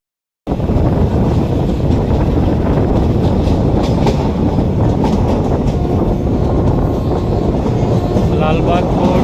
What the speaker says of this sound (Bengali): আমাদের ট্রেন এখন ঢুকে গেছে লালবাগ কোর্ট রোডে